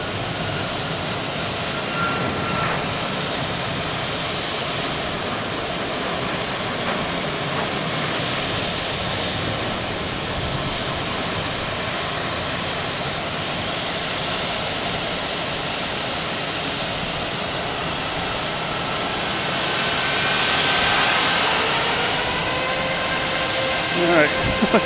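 A United Airlines Boeing 737 MAX 9 jet at Boston Logan Airport makes a steady, broad engine roar for the whole stretch, rising slightly near the end, with talking over it.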